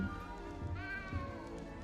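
A cat meows once in the Hogwarts Legacy video game, rising tonal calls over a busy game backdrop of ambient music and sound effects, moderately loud and without speech.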